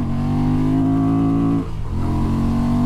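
An off-road adventure motorcycle, either a Honda Transalp or a Suzuki V-Strom 800 DE, revs hard in a steady loud engine drone, dips briefly in a shift, then pulls again close by.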